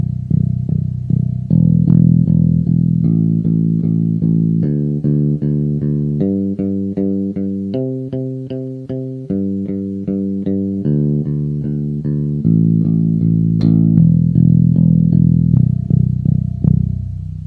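Electric bass plucked in an exercise of four notes per open string, cleanly played notes in an even, steady rhythm that climbs across the strings and back down, loud and alone with no talking.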